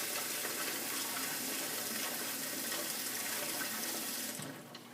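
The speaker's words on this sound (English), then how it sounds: "And then I'm going to fill my bowl up with water where I have my ice in it." Tap water runs steadily into a bowl holding ice, a continuous close rushing gush in a home kitchen that stops abruptly near the end.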